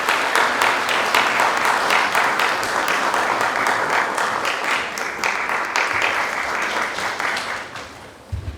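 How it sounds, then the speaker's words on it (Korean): An audience at a seminar hall applauds loudly and steadily, a dense wash of many hands clapping that holds for several seconds before tapering off at the end. "두 분께 다시 한번 큰 박수 부탁드리겠습니다."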